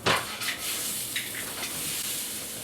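Fajita filling hisses in a hot pan while being stirred, with a burst of sizzle at the start and a steady moderate crackle that follows.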